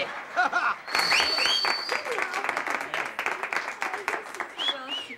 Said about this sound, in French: C'est la première fois de ma vie que j'entends du monde applaudir